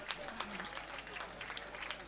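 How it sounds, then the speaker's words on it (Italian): Scattered clapping from the crowd at the 2021 Giro di Sardegna cycling awards ceremony, with sharp individual claps rising over a constant murmur and a voice speaking underneath. "Applauso signori."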